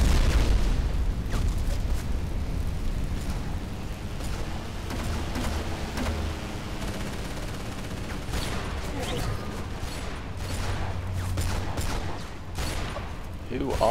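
Battlefield Heroes gunfire and explosions rattling steadily, with bursts of shots and low booms forming a constant busy battle bed, moderately loud, while a voice talks over it at times.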